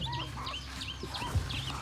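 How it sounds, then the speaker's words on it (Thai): Five ducklings peep repeatedly in high, thin chirps, close by, with a low background rumble, during rice harvesting. "เป็ดน้อยห้าตัว นี่เป็ดน้อย"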